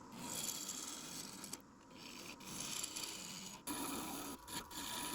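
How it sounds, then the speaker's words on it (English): A piece of wood turning on a lathe makes a quiet, continuous rasping scrape with brief interruptions as a tool touches the spinning workpiece. "give it a spin to make sure nothing's going to hit there, and we can start turning our piece of wood"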